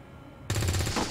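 A single sharp gunshot from a soldier's rifle in the tactical strategy game XCOM 2, going off abruptly after a quiet, low ambient stretch and leaving a dense, ringing burst that lingers for the remainder.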